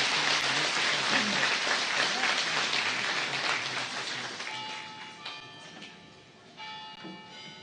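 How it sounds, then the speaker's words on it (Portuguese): A congregation at a Mass at the Capelinha das Aparições in Fátima breaks into sustained applause, dense and close, fading toward the end as a church bell chimes through it. "Uma salva de palmas para estes nossos irmãos."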